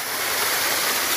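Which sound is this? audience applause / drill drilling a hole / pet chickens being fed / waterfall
waterfall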